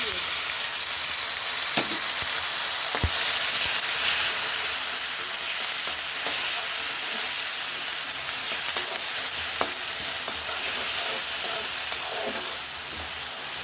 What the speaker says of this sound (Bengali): ঝাল পেঁয়াজটা বেশি লাগে একেবারে লাল লাল করে ভেজে নেব